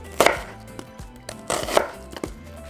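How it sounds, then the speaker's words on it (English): A knife slices through an onion on a cutting board in a home kitchen, several firm, crisp chops landing in short bursts with quieter gaps between, close and clear with no talking. "And for our onion, I'm just going to cut it in half."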